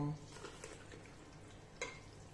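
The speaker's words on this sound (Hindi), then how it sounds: "5-10 मिनट अच्छी तरह इनको भूनेंगे" Chicken chole spices and ingredients frying in a pan, a soft, faint, steady sizzle with a brief clatter of stirring partway through.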